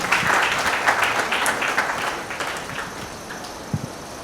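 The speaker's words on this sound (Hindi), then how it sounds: "तो एक बार तालियां बजा दीजिए पूरी टीम के लिए।" Applause for the whole team at an annual general meeting, a dense clapping of a seated crowd that gradually fades as it goes on, with a few stray claps near the end.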